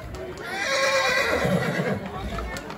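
A 12-year-old horse whinnies at a village horse beauty contest during a festival in Mantamados, Lesbos, with hooves clip-clopping nearby and a crowd and announcer talking throughout.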